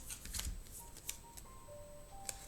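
Lenormand cards handled and laid out during a Grand Tableau reading: soft papery shuffles and brief slaps of cards on a surface, a few crisp snaps spaced across the moment, fairly quiet and close with no talking.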